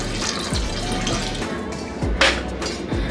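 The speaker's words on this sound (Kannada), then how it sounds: "ಬೇಳೆ ಮುಳುಗೋ ಅಷ್ಟು ನೀರು ಹಾಕೊಂಡ್ರೆ ಸಾಕು." Water is poured into a pot of toor dal, a close, splashing trickle with a few drips that runs steadily for a few seconds.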